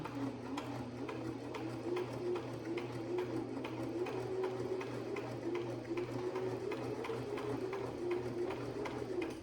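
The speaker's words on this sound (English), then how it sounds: "You see how it did start? It is sewing." A home sewing machine stitching fabric while a one-piece Mario costume is converted into a shirt, running steadily with a fast, even mechanical ticking and low motor hum, fairly quiet and without speech.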